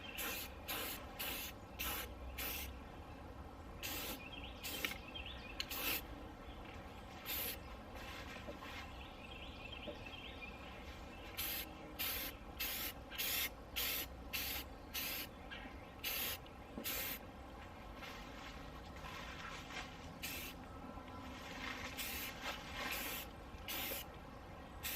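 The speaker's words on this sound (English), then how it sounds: "Probably gonna have to spray going straight down with these" Short bursts of hissing spray paint repeat in quick succession, close and sharp, with brief gaps between each spray, as speaker and fan covers from a mobile home are painted.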